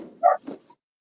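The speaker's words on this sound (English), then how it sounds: "we still got barking ass dogs" A dog gives a short bark followed by a softer yelp, both close and loud, with a brief whimpering tail and no voices over it.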